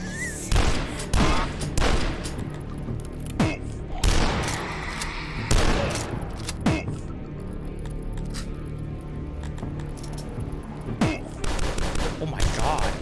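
Shotgun fire in the video game DUSK: a run of loud, punchy blasts at irregular intervals, some in quick pairs, over a constant bed of game noise and rumble.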